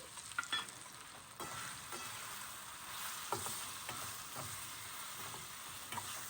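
Ground spices such as coriander-cumin powder, turmeric and Kashmiri chilli sizzle in hot oil in a pan for raw mango curry, a steady crackling hiss with brief stirring scrapes, close and fairly quiet.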